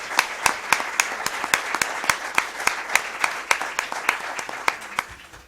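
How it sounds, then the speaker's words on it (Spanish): A book-launch audience gives applause for a novel's author. The clapping is fairly sparse and sharply rhythmic, with distinct individual claps at a steady pace rather than a dense roar. "Un fuerte aplauso para él y nuestras más merecidas gracias."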